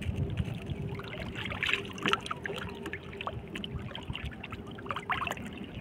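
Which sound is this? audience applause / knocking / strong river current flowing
strong river current flowing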